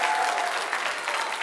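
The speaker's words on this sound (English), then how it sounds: "you can model a round of applause for our model here" Steady, dense applause from an audience at a Sunday gathering, a continuous even roar of many hands clapping at moderate distance without pauses.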